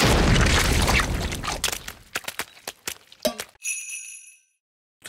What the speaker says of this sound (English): The pumpkin's going to explode.